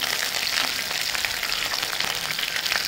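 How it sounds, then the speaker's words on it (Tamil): Curry leaves with cumin and pepper sizzling hard in hot oil, a dense, steady frying crackle close up with no voices. "இந்த கருவேப்பிலை சவுண்ட் வருது"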